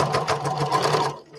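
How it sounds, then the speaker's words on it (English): A home sewing machine stitches through fabric, its motor whirring in a steady, rapid needle rhythm close by, then stopping abruptly near the end. "We only have like 6 inches left to sew."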